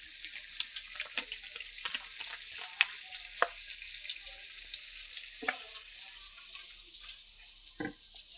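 Cooking oil sizzles in a pan for a curry of carp fish and sweet pumpkin, giving a steady close hiss dotted with scattered small pops and crackles, with no talking.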